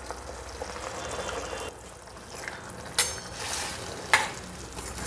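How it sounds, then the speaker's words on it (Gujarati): Masala paste, loosened with a little water, sizzles as it goes into a hot kadai with onions and tomatoes, a steady close frying hiss with two sharp spitting bursts partway through. "અને મસાલા પેસ્ટ કડાઈમાં ઉમેરી દઈશું."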